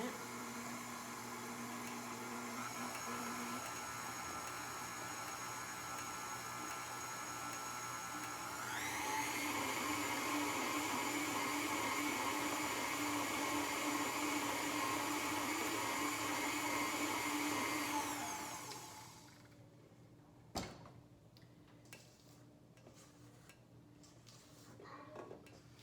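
Electric hand mixer whirring steadily through gluten-free, dairy-free banana bread batter with chocolate chips and Nutella, rising in pitch and loudness midway, then cutting off to leave faint kitchen clinks and handling noises.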